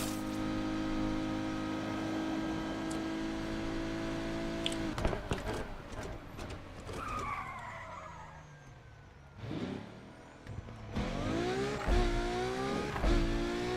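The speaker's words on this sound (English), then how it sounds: "Car." A car driving in Need for Speed Unbound, its engine revving up and down through several gear changes with tire skids, steady at first and then surging in bursts, with no talk.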